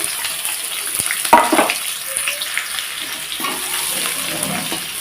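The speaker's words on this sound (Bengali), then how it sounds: "পেঁয়াজ কুচিটা হালকা লাল করে ভেজে নেব" Chopped onion frying in a pan, a steady sizzle with a soft splash and a sharp clatter of stirring near the start, continuing alone at a moderate level with no talk.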